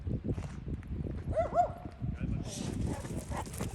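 A dog gives a couple of short yelping barks amid steady outdoor noise and footsteps in a forest, with a person speaking nearby.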